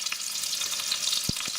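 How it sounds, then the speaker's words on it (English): Rabbit meat frying in a pan gives a steady, close hiss of sizzling fat with a few soft low knocks as pieces shift, alone without talk. "you should be able to tell by the sound of the frying pan and the smells coming off it how done the meat is"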